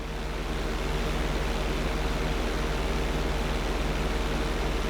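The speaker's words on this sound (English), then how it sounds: "roll your plane over to the opposite side and hold the position" Airplane engine in the video game GTA V during an aerobatic obstacle run, a steady, loud, unbroken drone that continues without pause and with no voices.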